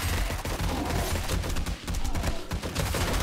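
Weapons fire in the zombie survival game 7 Days to Die as a sustained, close barrage of rapid shots, with short pauses between bursts and no talk over it.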